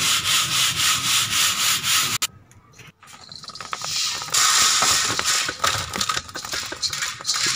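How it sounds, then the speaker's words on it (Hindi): Roasted wheat being shaken and scraped through a sieve with a spoon makes a steady rhythmic rasping and grainy rubbing, pausing briefly, then continuing as a busier, scratchy shuffle close up. "भूनने के बाद आपने इसको छान लेना है, ऐसे इसको छान लें।"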